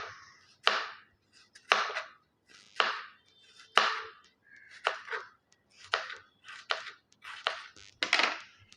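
Onions cut lengthwise with a knife on a board for sambar, about ten crisp chopping strokes in an even rhythm, close and fairly loud, with no talking.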